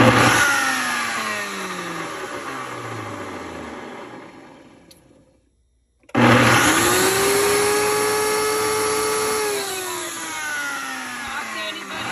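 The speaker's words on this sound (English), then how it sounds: "So here is the Ninja Chef blender." A Ninja Chef CT810 blender runs loud, rising in pitch, cutting out for about a second, then restarting with a strong whine that sweeps up and settles into a steady high motor roar.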